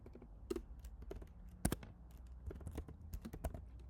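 Soft computer keyboard typing while writing HTML list code in Visual Studio Code, a run of light irregular key clicks with a couple of sharper taps, quiet and close, with no voice.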